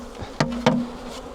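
Honey bees buzz at an opened hive, a steady low drone of the colony with two sharper buzzes from bees passing close, no talking.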